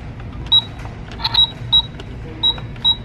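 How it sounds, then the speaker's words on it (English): Toy Mickey Mouse cash register giving off a series of short electronic beeps in an uneven rhythm, close by, over a low background hum. "They have a Mickey Mouse cash register."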